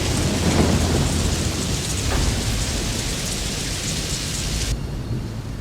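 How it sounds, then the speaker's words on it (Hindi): Dense, steady hail pelts down on farm fields continuously with a low rumbling roar, no voices, ending abruptly. "उसी रात ओले गिरे और पूरी फसल बर्बाद हो गई"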